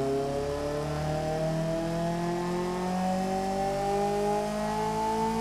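Simulated inline-4 engine in the Automation car-building game, revving loudly and steadily with a rising tonal whine that climbs in pitch throughout, with no talking over it.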